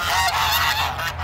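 Geese in a large bird pasture honk loudly and continuously, close by, in a dense overlapping chorus of harsh calls with no pauses.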